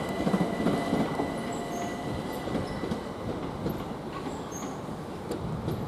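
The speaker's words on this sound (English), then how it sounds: "we've got another train coming in here" A Southeastern class 375 electric train pulls into Ashford International station, a steady rolling rumble with faint wheel squeal and rail clatter throughout, heard without speech.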